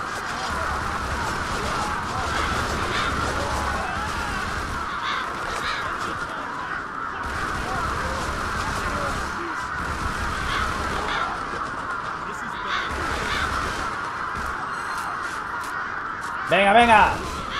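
Crows cawing repeatedly after being summoned in the Bullet Witch video game, a steady flock of caws running under someone talking in Spanish, with a louder burst near the end.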